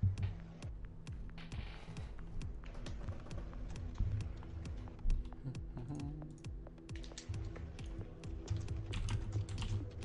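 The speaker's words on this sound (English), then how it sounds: "You might hear me typing though." Computer keyboard typing close to a desk microphone during a live stream, with rapid uneven key clacks running continuously at moderate loudness and no talking.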